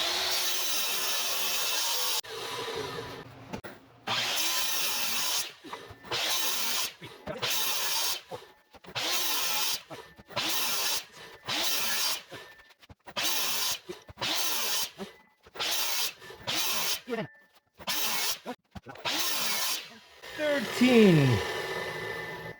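Saw repeatedly cutting wood into 1-inch pieces for a skyline diffuser, thirteen short, evenly spaced rasping cuts in a steady rhythm, close and loud, with a brief scrape at the end.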